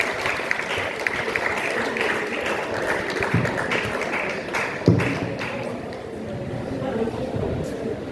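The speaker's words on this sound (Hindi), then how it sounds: "प्लीज जोरदार तालियां हो जाए" Applause at a parish youth day honoring a self-defense instructor, a busy wash of clapping mixed with crowd chatter and voices throughout, with a couple of sharper knocks partway through.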